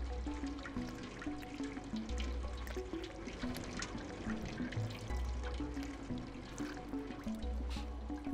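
Water trickles and pours in the Stray video game, a continuous liquid splashing with scattered drips, set against low, looping ambient music tones, with a brief spoken word.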